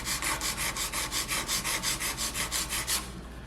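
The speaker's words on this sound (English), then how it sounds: "all you wanna do is keep on filing like that point area" Nail file rasping a fingernail into a stiletto point, quick regular back-and-forth strokes close up, about five per second, stopping abruptly near the end.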